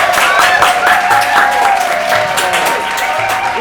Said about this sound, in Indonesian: Tepuk tangan bagi kita sini.